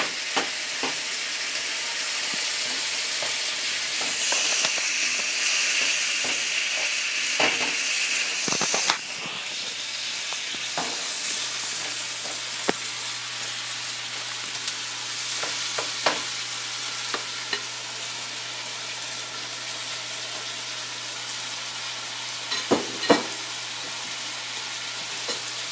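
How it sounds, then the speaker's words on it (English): Meat cooks in a beetroot mixture in a pan, giving a continuous close sizzle and hiss broken by scattered spoon scrapes and clinks from stirring, with no one speaking. "I want my meat to cook for quite some time in this mixture"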